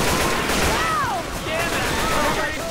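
Gunfire in the Left 4 Dead 2 zombie shooter, aimed at a boomer, sounding as quick shots mixed into a busy, loud game soundscape with whistling tones while players talk over it.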